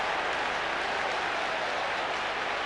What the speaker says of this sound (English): Neil Webb takes the applause.